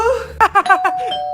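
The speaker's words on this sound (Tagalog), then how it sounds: "May nag-doorbell?" A doorbell chimes indoors, a bright ding-dong with several ringing tones rising and fading over just over a second, loud and close with no talk.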